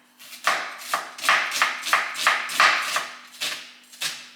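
A knife chops food in a home kitchen with a steady, even rhythm of about nine crisp, close strikes. Each stroke ends sharply, and no one talks.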